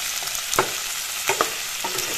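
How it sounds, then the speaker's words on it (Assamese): Chicken meat is stirred with chili, cumin and coriander powders and salt in a hot pan for curry, a steady sizzle broken by a few scraping spatula strokes, close and moderately loud. "মাংসখিনি এনেদৰে তলপৰ কৰি লৰাই দিছোঁ"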